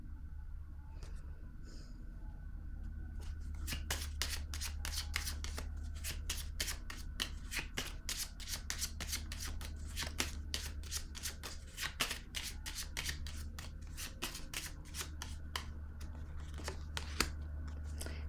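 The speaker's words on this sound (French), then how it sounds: "Je vais déposer une carte sur elle." Tarot cards are shuffled in a rapid run of crisp riffling snaps over a low steady background hum, the card noise close and continuing for most of the stretch.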